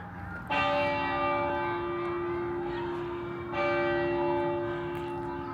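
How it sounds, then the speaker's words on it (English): Handmade church bells in Helena, Montana toll twice, resonant strikes several seconds apart whose long ringing tones decay slowly over faint outdoor background noise. "I was reading those bells were handmade"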